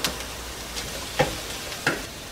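Mushrooms fry in melted butter with a soft, low sizzle, broken by two or three light stirring scrapes against the pan.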